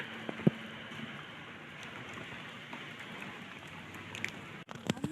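Soft, constant rainfall hisses in the background, with a few faint clicks and knocks scattered through it.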